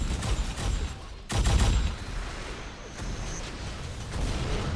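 Rocket fire in an Unreal Tournament match shows up as a string of loud bursts and booming impacts over busy game noise, with one heavy blast near the middle.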